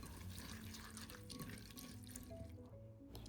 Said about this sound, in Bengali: চিড়েটাকে এখন খুব ভালো করে আমি 2-3 বার জল পাল্টে পাল্টে ধুয়ে নেব।